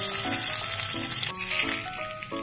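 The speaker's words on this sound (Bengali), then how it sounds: "এবারে আরেকটু তেল দিয়ে আমি মশলাটা ভেজে নেব" Spices fry in oil in a pan for a potol and prawn dish, making a steady soft sizzle with light crackle, accompanied by background music.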